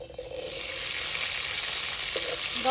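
Cluster beans (gavar) fry steadily in hot oil in a pan, a dense and continuous crackling sizzle that holds close and loud throughout, with faint clinks of a utensil near the end.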